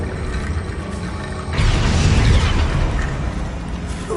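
Spell blast going off in Hogwarts Legacy, a sudden loud booming burst at mid-clip that rolls into a sustained rumbling roar, with quieter game ambience before it.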